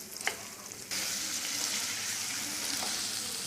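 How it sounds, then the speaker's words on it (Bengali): Dried pomfret fish frying in a pan, a steady close sizzle that jumps louder after a brief quieter start with a small clink, then continues evenly with no talk. "এবার অনিন্দ মাছগুলো একটু ভাজি করে নিচ্ছেন।"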